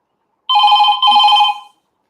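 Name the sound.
phone delivery notification ringing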